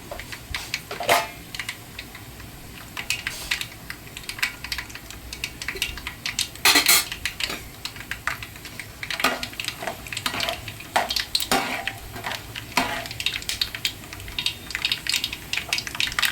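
Peanuts, about 50 grams, crackle and pop in a hot pan with irregular sharp ticks and small bursts over a low sizzle. No one speaks.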